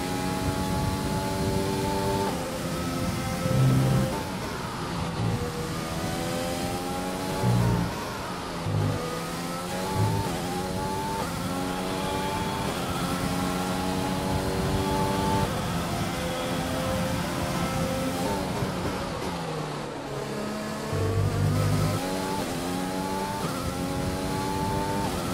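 An F1 race car engine in the F1 2020 game at the Austria Grand Prix revs steadily, its pitch rising and falling through gear changes and lifts, loud and continuous with brief tire squeal.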